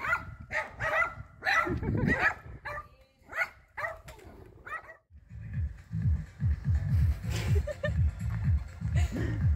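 Dogs bark in quick bursts on a rural path in Galicia, Spain, then the barking gives way to a low rumbling, rhythmic noise with faint yips, sheep and background sounds.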